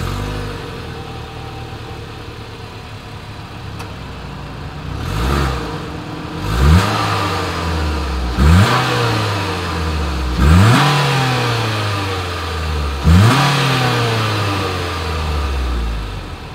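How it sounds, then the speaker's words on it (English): Engine revved repeatedly, five or six sharp throttle blips each rising then falling back to a low rumbling idle, close and loud. "Here is that exhaust clip."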